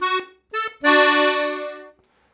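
An accordion plays the intro to a norteño tune: two short, bright notes followed by a longer sustained chord, reedy and close, alone with no voice.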